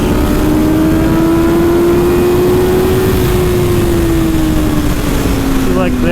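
A Suzuki GSX-R 750 sport motorcycle at a trackday howls loud and steady near the mic, its engine note climbing slowly and then easing off under heavy wind roar as the rider stays on the throttle without shifting.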